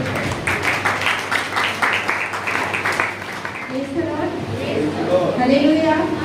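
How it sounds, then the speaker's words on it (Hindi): A church congregation at a Good Friday service claps loudly for a sister about to share, a brisk wash of hands that thins out as a voice starts speaking over it. "हम लोग जोर से तालियां बजाएं"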